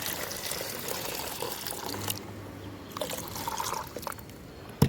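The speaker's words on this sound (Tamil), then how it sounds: "இதில் வந்து நம்ம 1 லிட்டர் தண்ணி ஊற்றிக்கலாம்." About a litre of water is poured into a container for mixing with slaked lime, a steady close splashing gush lasting several seconds with no talk.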